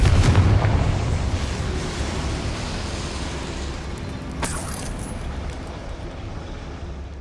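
A Confringo blasting spell in Hogwarts Legacy explodes with a heavy boom at the start, then a long rumbling decay, followed by a brief sharp crackle midway, with no talk.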